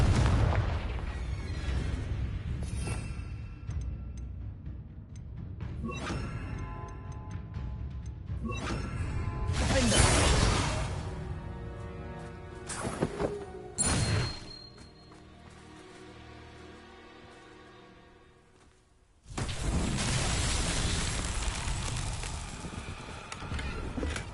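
A Confringo blasting spell explodes in Hogwarts Legacy, giving several loud booming blasts with rumbling debris scattered through a busy game soundscape, followed by a brief lull and then a sustained heavy roar.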